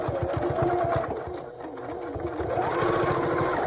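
A sewing machine stitches through layers of cotton and a zipper in rapid, even bursts of mechanical clatter, slowing briefly in the middle before running again, close and clear.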